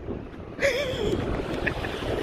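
Wind buffets and rumbles against the microphone outdoors in a muddy field, a steady roar with gusty swells and no speech.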